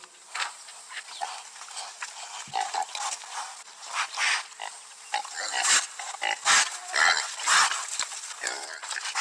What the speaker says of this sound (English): Here come the pigs.